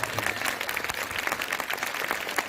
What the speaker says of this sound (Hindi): खोल के ताली बजाओ यीशु वास्ते।